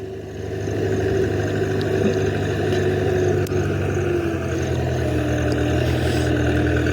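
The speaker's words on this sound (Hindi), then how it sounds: "उसमें भाई ट्रैक्टर आ गया" A farm tractor's engine runs steadily beside a flooded field drain, with a continuous low droning hum heard close and loud throughout and no talking.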